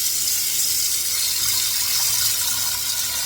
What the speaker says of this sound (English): I'm going to put my water